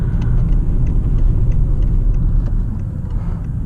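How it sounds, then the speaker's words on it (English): A BMW E61 LCI 530d wagon with manual gearbox and M Sport suspension cruises on a highway, giving a loud, steady low road and engine rumble with tyre noise filling the cabin throughout. "Yeah, we are driving over highway."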